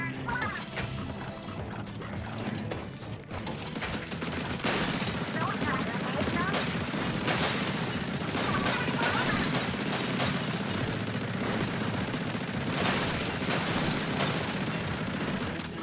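A giant robot in Splatoon 3 fires rockets amid a dense, continuous barrage of crashing, booming impacts and mechanical clatter that grows louder after the first few seconds, with speech mixed underneath.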